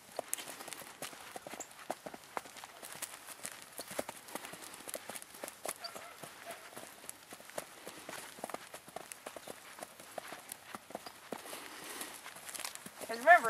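A horse's hooves clip-clop and shuffle across the ground as it is worked in a round pen during groundwork training, with steady footfalls throughout, faint behind a trainer talking.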